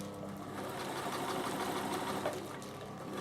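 A Bernina sewing machine stitches around a large coolie bag. The motor hums and clatters steadily and rapidly up close, running continuously without talk.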